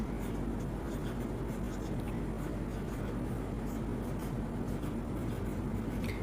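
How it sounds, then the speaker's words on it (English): A teacher writing during an English class, producing a continuous scratchy rubbing sound over steady low background noise, with no clear speech. "let me write down that for you"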